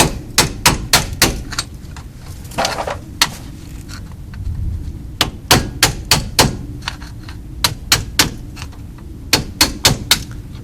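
Repeated metal-on-metal whacks on a 2003 Chevy Trailblazer wheel hub, struck from the back with a screwdriver to knock out rust scale; sharp, loud strikes come in quick clusters with short pauses between bursts.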